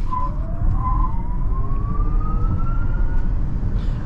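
A 2023 Genesis GV60 electric car accelerates, its motor whine rising smoothly and steadily in pitch over a constant low road rumble inside the cabin.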